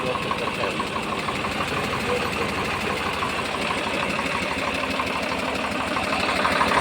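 A Swaraj 855 diesel tractor engine idles steadily with a constant low rumble and rhythmic knocking, close and loud, with no pauses.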